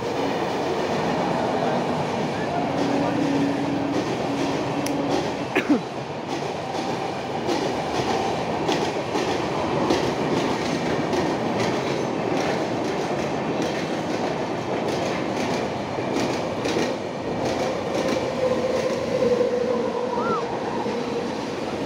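A train runs on rails near Sahad with a steady, close rumble and a faint clickety-clack of wheels that continues unbroken throughout.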